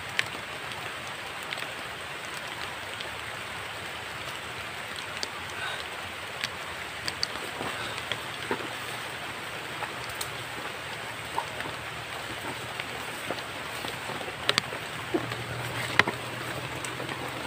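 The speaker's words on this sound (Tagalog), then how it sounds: "Hanggang ngayon tuloy ang ulan." Steady rain hisses continuously, with scattered drops tapping on a surface and a low rumble underneath.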